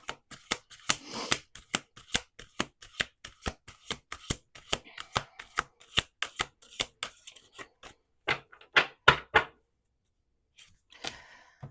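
Rapid riffling and snapping of an oracle card deck being shuffled several times in quick bursts, close and crisp, with brief pauses between shuffles.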